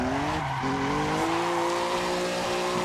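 A Toyota 2000 GT's naturally aspirated inline-six screams at high revs on a runway, a loud, steady, rising engine note heard up close with no talking.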